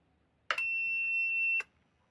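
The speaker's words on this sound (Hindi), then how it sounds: "देखिए बीप आने के बाद ये इन्वर्टर ऑफ हो गया।" A Luminous Eco Watt 650 inverter with a drive supply problem gives one clear, steady electronic beep lasting about a second before shutting off, alone against a quiet background.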